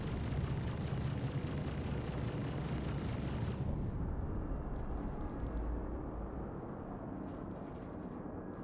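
Dense video-game gunfire roars continuously for a few seconds, then drops to a thinner, softer rattle of shots and rumble, with no talking.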